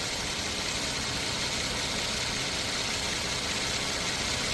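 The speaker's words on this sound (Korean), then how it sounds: "자 엔진 사운드 한번 들어보시기 바랍니다" A used car engine with 270,000 km on it idles steadily with a smooth, even hum and faint vibration, recorded close up without any talking.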